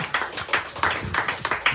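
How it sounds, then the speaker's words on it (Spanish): A church congregation claps in a quick, steady rhythm, giving crisp, evenly spaced claps close by with no other sound. "Denle un aplauso al Señor"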